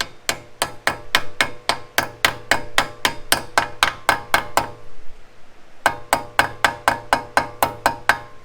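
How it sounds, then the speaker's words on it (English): A hammer taps a metal dust cover into a Land Cruiser 100 series wheel hub in a steady, even rhythm, about sixteen sharp ringing strikes, a brief pause, then roughly ten more at the same pace, close and clear. "Lightly tap it in with the hammer."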